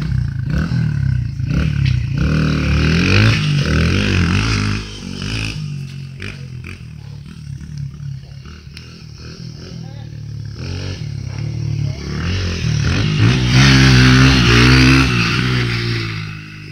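Small dirt bike engine revving and roaring close by, rising and falling in throttle bursts throughout, with people cheering and talking over it.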